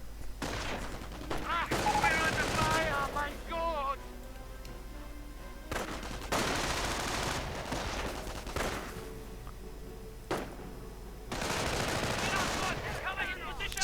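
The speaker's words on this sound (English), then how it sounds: "Slight fire going on there, folks." Gunfire crackles through a WWII strategy game battle involving Wehrmacht and US forces, bursts of shots and explosions recurring loudly in waves, with a commentator talking over much of it.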